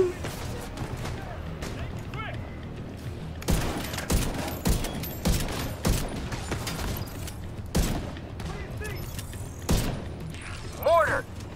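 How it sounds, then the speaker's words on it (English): Mortar and gunfire explosions in the co-op video game Division 2, a series of loud booms and bursts going off repeatedly across the clip, with players shouting over the barrage. "Oh, Jesus. Mortar? Oh, shit!"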